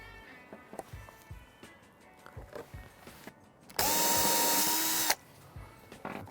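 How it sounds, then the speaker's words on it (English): A power drill bores screw holes for a gutter bracket on a flat roof, one loud continuous whirring burst of about a second and a half, framed by scattered knocks and footsteps. "That can give me a mark where I need to drill."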